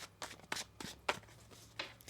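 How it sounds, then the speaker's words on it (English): A tarot deck is shuffled by hand in a few quick, soft bursts of riffling card noise, close and quiet, with no talk. "One more shuffle."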